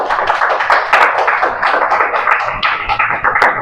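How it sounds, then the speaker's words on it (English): A school class of children claps together in a big round of applause; loud, close, dense and slightly uneven clapping keeps a busy rhythm for the whole stretch. "Then give a big round of applause,"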